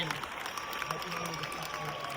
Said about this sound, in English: Big round of applause from the crowd.